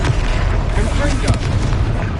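Fiery Confringo blasting spell exploding in Hogwarts Legacy, a dense, loud rumbling burst with continuous low-end boom that sustains throughout.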